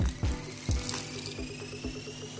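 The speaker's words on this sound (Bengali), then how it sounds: "এখন আমি এর মধ্যে নর্মাল জল দেব, খুব অল্প অল্প করে, আর এটাকে মাখবো" Water is added a little at a time to nimki dough in a bowl, giving short splashes and drips with soft wet kneading sounds in between, close and fairly quiet.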